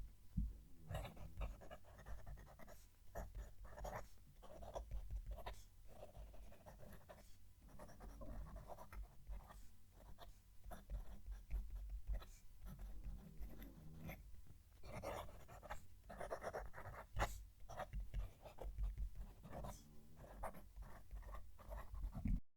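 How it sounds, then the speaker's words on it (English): Fine-nib fountain pen scratching across paper in short, repeated strokes, close and fairly quiet, with brief pauses between words and no talking. "This is a lot scratchier, but it's a fine nib, got to bear that in mind."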